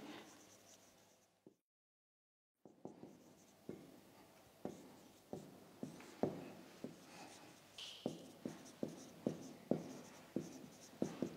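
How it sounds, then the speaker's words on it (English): A teacher writes a chapter number on a classroom board, producing a series of close, sharp tapping and scratching strokes in an irregular rhythm, with no talking. "Here I am going to write the chapter number and the"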